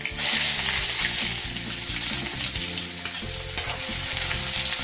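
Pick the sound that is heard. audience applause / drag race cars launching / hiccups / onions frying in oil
onions frying in oil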